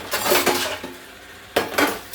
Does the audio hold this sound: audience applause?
no